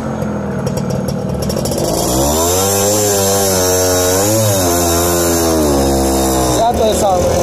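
A Suzuki AX100 motorcycle fitted with a racing fourth-gear sprocket starts and runs, its small single-cylinder engine rising into a loud, steady buzzing idle with a brief rev, close by.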